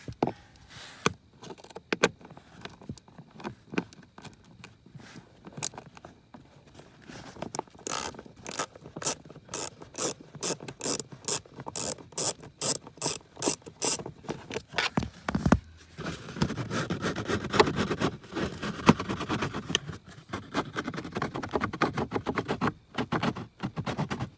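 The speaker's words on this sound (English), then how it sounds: "a couple of 7mm screws. There's one there, and then one up here. So we're gonna remove those." A hand ratchet backs out 7mm screws on a Chevy/GMC HVAC blower motor, with rapid runs of clicking pawl bursts, then scraping and rattling of metal parts, close up and with no voices.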